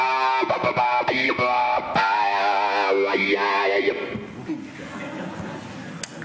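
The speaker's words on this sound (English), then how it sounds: "It's cool with distortion." An electric guitar runs through distortion, with the filter and volume worked by resistive touch strips built into the guitar's face, producing loud, gritty, sweeping tones that swell and bend before fading into crowd noise and a brief laugh.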